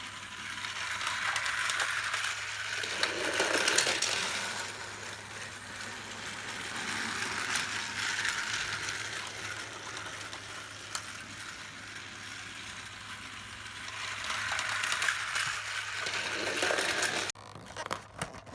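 A motorized Trackmaster Thomas-style toy engine with swaying smelting cars runs along plastic track, giving a continuous faint mechanical whirr and gear rattle with soft rhythmic swells as it travels, no voices.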